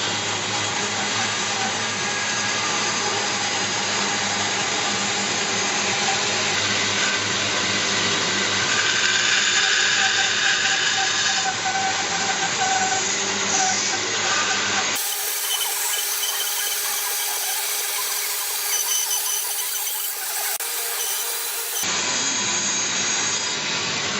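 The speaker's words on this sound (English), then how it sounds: "cut these curves on the bandsaw first" A bandsaw cutting curves and a tenon in a wooden workpiece, a loud continuous whirring blade with steady rasping as the wood feeds through, briefly changing tone midway, with no talk.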